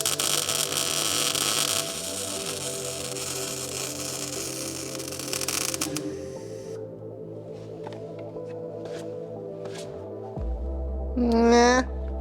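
V8 motor mounts being welded on a 1965 Mustang: a close, steady crackling hiss of the welding arc over an electrical hum, then a quieter humming stretch with a few faint clicks.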